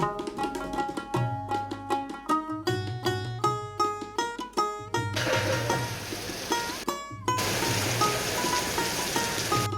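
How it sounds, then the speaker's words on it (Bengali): Heavy monsoon rain pours over Dubalhati market in Naogaon, a steady broadband hiss that swells in dense bursts beneath a louder melodic music track. "এই বর্ষাকালে অঝোরে বৃষ্টি নামছে দেখুন খুব সুন্দর"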